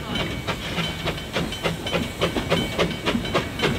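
Puffing Billy steam train departing for Lakeside, with rhythmic chuffing exhaust beats and hiss repeating steadily at moderate distance, fairly faint and without talk.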